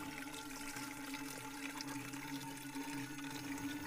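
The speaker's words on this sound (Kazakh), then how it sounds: "Бөтелкеме су құйып жатқанда" Tap water runs steadily into a bottle in a basement stairwell, a continuous close splashing rush with a faint rising tone, no voices.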